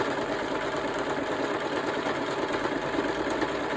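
A sewing machine stitching the front cover of a prayer journal runs in a steady, continuous whir with a fast even rhythm, close and fairly loud, with no talk.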